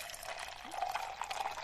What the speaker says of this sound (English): The audio that you hear of the liquid pouring is actual liquid pouring.